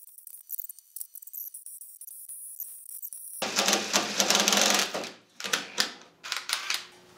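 A cordless drill running low on battery bores holes, giving several rough, noisy bursts of a few seconds each, preceded by light clicking and handling.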